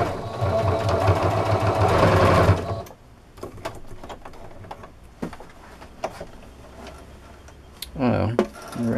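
A sewing machine stitches dish washing sponges in a loud, fast mechanical rattle for a couple of seconds, then stops and gives way to quieter handling clicks and a short burst of motor whir near the end.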